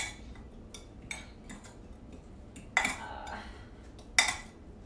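Spoonfuls of low-carb mini cheesecake batter dropped into metal muffin tins, with light scraping and soft taps from a teaspoon and two sharper metallic clinks standing out against quiet room tone.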